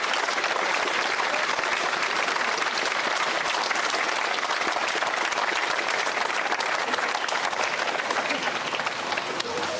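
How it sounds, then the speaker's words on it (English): Sustained crowd applause at a GAA senior football final replay presentation in Westmeath, honoring members of a 1963 winning team, a dense even roar of clapping throughout. "I'd like to give a round of applause"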